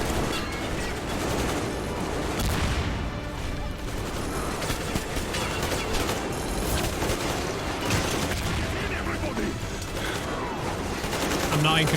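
Dense gunfire and battle noise from the video game Metro Exodus, with sustained shots and bursts mixed with crashes and booms filling the whole stretch at steady loudness, a voice faintly present beneath the din.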